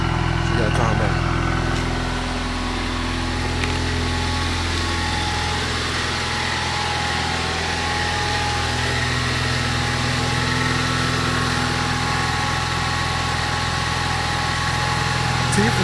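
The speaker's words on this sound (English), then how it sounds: "Engine started, Ford Mustang." Ford Mustang engine idling just after starting, a steady, continuous low rumble with a constant hum, close and unbroken throughout with no talk over it.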